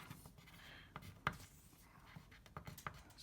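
A colored pencil scratches across paper while calculus problems are worked out, with soft, quiet strokes and a few sharper taps spaced irregularly over a few seconds.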